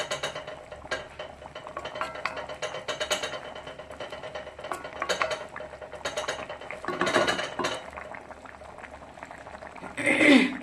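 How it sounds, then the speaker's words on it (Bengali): A fish curry with tomatoes and chopped coriander boils steadily in a pot on a home stove, a continuous bubbling with occasional stirring and light utensil clinks, rising louder and splashier near the end. "তরকারি আমার ফুটছে, আপনারা দেখতে পাচ্ছেন"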